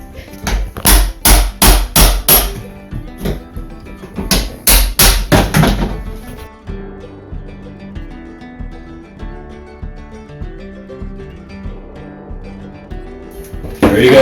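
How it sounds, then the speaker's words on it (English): Sharp hammer blows while bathroom trim is pried off in a demolition job: two loud rapid bursts of repeated strikes early on, then quieter background with faint knocks. "We're about to start taking down the trim today."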